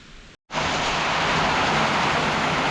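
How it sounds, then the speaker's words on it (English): Rain pours onto a backwoods log cabin with a roof that has holes, making a dense, steady hiss that fills the space after a brief silent gap. "First time ever sitting in a cabin watching it rain."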